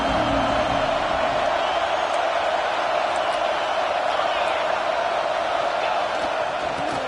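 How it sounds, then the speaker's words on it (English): A football stadium crowd at a USC vs Notre Dame game roars in a steady, dense wash of cheering and whooping that holds constant throughout, with a commentator's voice faintly underneath. "This crowd coming to life here, trying to help the defense get a stop."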